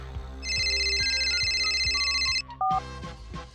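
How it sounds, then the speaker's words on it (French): Cartoon telephone ringing with a bright, electronic warble that repeats steadily over a musical backing, then breaks off into a short tone as the call is answered. "Puisque c'est comme ça, j'appelle tout de suite le colonel Black"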